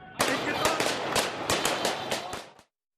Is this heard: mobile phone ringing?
no